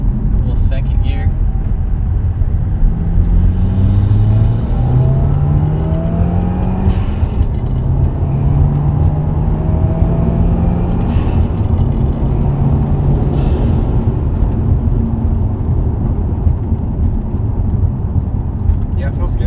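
A 1000-horsepower K24-powered all-wheel-drive Honda Civic pulls hard in second gear, its engine note rising in pitch through several shifts, loud and droning inside the cabin with no voices.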